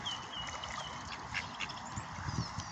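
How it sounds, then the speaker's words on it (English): Ducks quack at a pond where moorhens also gather, a few short calls rising over a steady outdoor wash of birdsong and ambient noise, moderately close and fairly faint. "There's some ducks"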